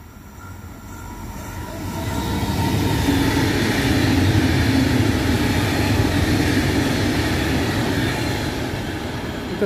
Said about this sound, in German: Und dazu war eine dreifache Einheit Baureihe 612 von DB Regio Bayern